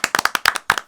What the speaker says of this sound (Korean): 짧게 박수 한번 치고 가시죠